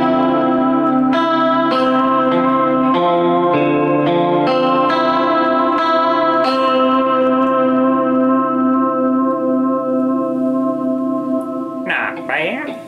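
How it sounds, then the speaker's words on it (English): Electric guitar chords and single notes ringing through a Fender amp's springy, splashy spring reverb, with a long shimmering decay and a brief rattle at the end. "show you how the spring reverb in a Fender amp sounds"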